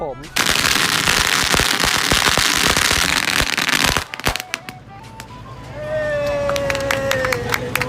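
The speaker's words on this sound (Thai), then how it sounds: "จะมาจุดประทัดเพื่อรอดู หางเลขของประทัดนะครับ" Firecrackers lit at the Ai Khai shrine of Wat Chedi in Thailand burst in a loud, dense, rapid string of crackling pops for about four seconds, followed by scattered sharper bangs and a thin whistling tone.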